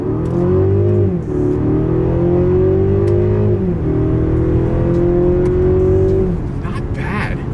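A 2026 Mercedes-Benz GLC 300 with a turbo four-cylinder and mild hybrid system accelerates hard from a standstill in manual first gear and sport mode, its loud engine drone rising in pitch with two brief dips as revs change.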